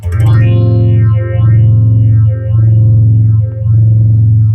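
A 1970s Roland Phase II AP-2 phaser pedal with a sine-wave LFO: a sustained, distorted tone sweeps smoothly up and down in slow, even waves, a phaser-style whoosh cycling about three times, loud and alone.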